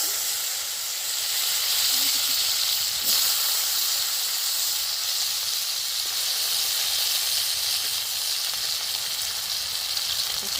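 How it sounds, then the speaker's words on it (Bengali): Potato pieces fry in hot oil in a kadai wok, making a steady, close, dense sizzling hiss that continues evenly throughout with no other sounds. "আমি কড়াতে তেল দিয়ে দিচ্ছি। ভিতরে এই আলুটাকে একটু ভেজে নিচ্ছি।"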